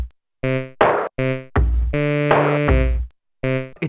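A Teenage Engineering PO-16 Factory pocket synth plays a dry pattern with no playstyles or effects: short punchy melodic notes, bass thumps and noisy hits arrive in a choppy, gapped rhythm.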